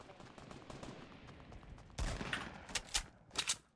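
Gunfire in the Fortnite Battle Royale video game: after a quiet stretch of low background noise, a sudden loud volley breaks out, followed by several sharp, separate shots close together.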